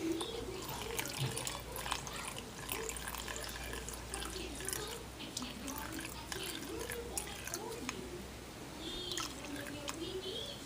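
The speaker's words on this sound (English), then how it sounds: "Now we're going to pour 1/4 cup of nail polish remover in to this" Nail polish remover pours into a measuring cup for a styrofoam experiment, a steady trickling liquid sound running under continuous talk.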